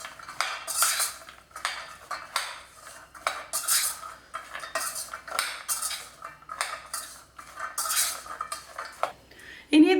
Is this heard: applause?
no